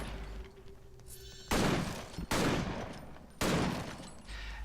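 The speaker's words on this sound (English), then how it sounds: "You can shoot non-stop on everything." Gunfire from the action video game Victor Vran comes in three loud, sustained bursts of rapid shooting, separated by brief quieter gaps filled with ambient game noise.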